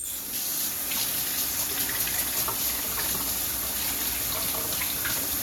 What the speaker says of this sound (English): I'm gonna rinse my hands off.